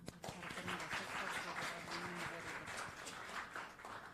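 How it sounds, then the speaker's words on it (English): Audience applause at the Orion Summit 2023 conference fills the space for about four seconds, a steady wash of clapping with scattered voices and some talking mixed underneath. "Let's round of applause for that."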